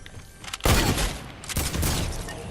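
Gunfire in the console version of Fortnite Battle Royale: a sudden loud burst of shots, then a second cluster of blasts about a second later, close and sharp over a low background.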